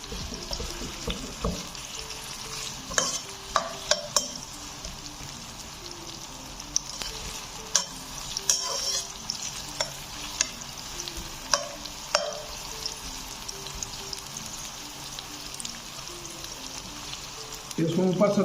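Medium-sized onion browning in a pan for aloo tahari: steady close frying hiss with intermittent stirring clicks and scrapes, ending in a louder clatter.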